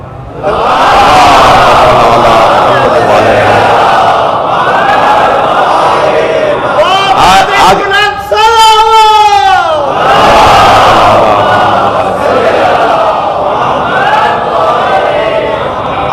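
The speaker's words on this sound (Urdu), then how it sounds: "میرے عزیز آپ سے کہہ رہے ہیں کہ بلندتر صلوات" A mourning congregation at a majlis chants salawat even louder in unison, many voices surging in a roaring, sustained collective shout. A brief, more tonal rising phrase comes midway before the full crowd roar returns, loud and close.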